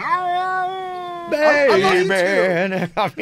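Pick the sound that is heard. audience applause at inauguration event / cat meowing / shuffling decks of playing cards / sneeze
cat meowing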